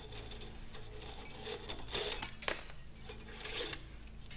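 Metal lathe shavings being cleared away during machining of a pulling adaptor for a Caterpillar RD-6 final drive hub, giving a close run of light metallic clinks and scraping rustles with a sharper chink near the end.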